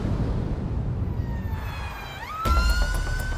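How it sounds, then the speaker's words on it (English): An ambulance siren wails and climbs in pitch over a rumbling engine, then holds a loud steady tone as the vehicle draws close. "They're coming to you on blue lights and sirens"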